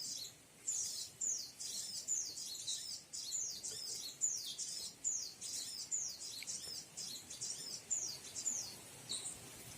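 Birds at a trapping site set with glue and an MP3 lure give high, sharp chirps in a rapid repeating series of short phrases, fairly faint and continuous over quiet background.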